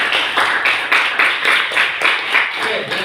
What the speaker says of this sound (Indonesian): Oke, tepuk tangan untuk Wiswatul.